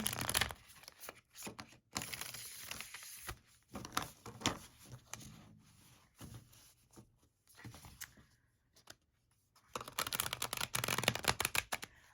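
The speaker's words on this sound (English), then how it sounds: "Let's go ahead and give these cards a shuffle" Quiet crisp fluttering bursts of a thin-cardstock tarot deck being riffle shuffled, several rounds with short pauses, close by.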